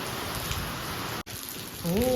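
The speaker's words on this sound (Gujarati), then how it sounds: "પવન સાથે વરસાદ ચાલુ થઈ ગયો છે" Steady rain hisses close by with a gusty windy rush, a brief cut midway, and a voice starts at the end.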